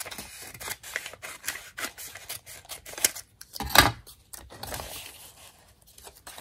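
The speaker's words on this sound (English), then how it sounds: "So I'm just going to cut a little bit of this off." Scissors cutting paper for a handmade envelope journal craft, a series of crisp short snips and rustles close to the microphone with one louder cut near the middle.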